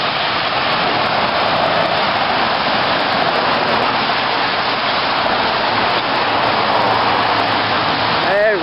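Steady, heavy rain pours down and hisses continuously, dense and close, with a faint voice briefly audible near the end.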